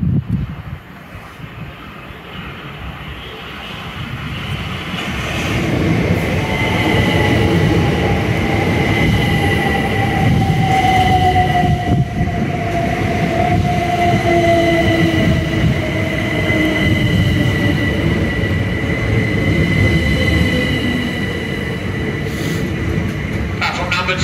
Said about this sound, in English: this red train on platform number 2, Brighton only.